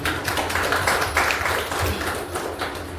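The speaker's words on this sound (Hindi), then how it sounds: "मजा ही नहीं आया ऐसे ताली बजाने" A seminar audience claps in dense, sustained applause of many hands, fairly loud and steady for a few seconds, with a speaker's voice faintly under it.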